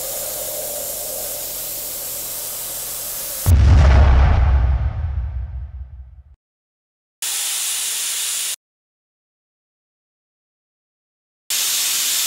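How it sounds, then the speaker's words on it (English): A pressure cooker bursts in a sudden loud blast, then a hissing rush decays over a few seconds, after earlier steady hiss and with abrupt bursts of noise separated by silence. "What happens to the pressure cooker? It explodes, doesn't it?"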